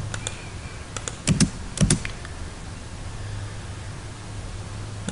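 A few scattered computer keyboard key presses while entering AutoCAD commands, including two heavier taps close together, over a steady low hum of room or fan noise.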